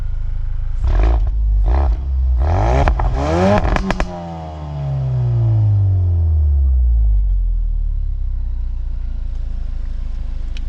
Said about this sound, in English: Let me open up the exhaust more.